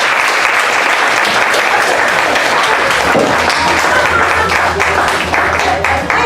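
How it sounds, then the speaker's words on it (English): Loud, continuous audience applause with crowd cheering filling the room for several seconds, dense and close, with no pauses. "give a nice big round of applause to my friend Tish Owen"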